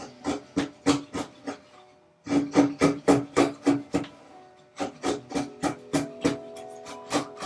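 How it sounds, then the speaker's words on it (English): A wood chisel cleans up the router entry point of a tapered sliding dovetail, giving short, rhythmic scraping strokes in three quick bursts separated by brief pauses, close and clear. "I'm just getting these cleaned up with my chisel because it's the entry point."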